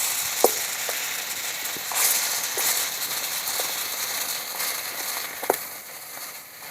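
Climbing perch (koi fish) fry in oil in a wok with a bright, continuous sizzle and crackle. Occasional sharp spatters and light stirring clicks sit close and loud throughout.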